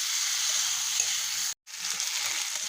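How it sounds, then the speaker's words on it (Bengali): Sliced potatoes and onions frying together in a pan, a soft continuous sizzle with a brief break midway, fairly quiet and without talk. "আলু আর পেঁয়াজটা এখন খুব ভালোভাবে ভাজবো।"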